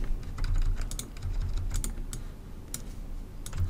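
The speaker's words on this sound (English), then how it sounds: "And here we type frame 2, like this" Keys clatter on a computer keyboard as code is entered in LabVIEW: quick, irregular clusters of close, crisp clicks over a low steady hum, with no voices.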